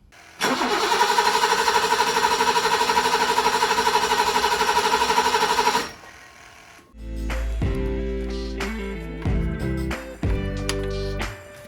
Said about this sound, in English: as soon as you pass through the relay, you can hear the fuel pump